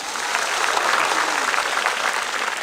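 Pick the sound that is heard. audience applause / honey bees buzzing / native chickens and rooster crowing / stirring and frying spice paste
audience applause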